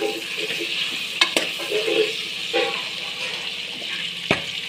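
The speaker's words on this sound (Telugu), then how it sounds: "ఈ ఆనియన్స్ కొంచెం వేగాయండి" Onions fry with salt in a pan while being stirred, giving a steady close sizzle broken by a few sharp scraping knocks of the spoon against the pan.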